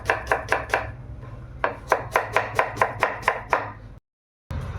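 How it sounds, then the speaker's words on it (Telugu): A knife chops onions into small pieces in quick, crisp strokes, one short run of hits followed by a longer steady series, close and clear with no talking, ending in a brief silence. "ఉల్లిపాయలు చిన్న చిన్న ముక్కలు అయితే కోసుకుందాం."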